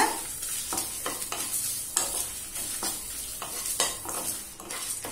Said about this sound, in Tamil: இது எல்லாத்தையும் நல்ல வாசனை வர வரைக்கும் வறுத்துக்கலாங்க.